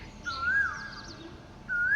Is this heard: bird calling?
yes